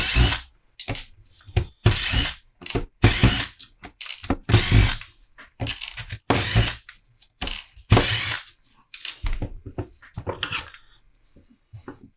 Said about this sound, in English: Flip this over and just remove screws.